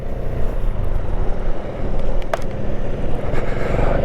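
Vespa GTS 500 scooter engine running just after starting, a close, steady low rumble that pulses and idles without pause, with faint clicks and rattles over it.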